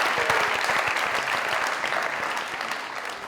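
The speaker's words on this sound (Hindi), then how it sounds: "जोरदार ताली।" Loud audience applause in a Pakistani comedy talk-show studio, dense clapping that begins strong and slowly fades a little over a few seconds, with no talking.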